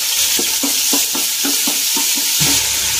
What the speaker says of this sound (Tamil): பட்டை, சோம்பு, லவங்கம், பிரியாணி மசாலாலாம் வந்து அரைச்சி வச்சுருக்கோங்க. அதை வந்து போட்டுக்கலாம்.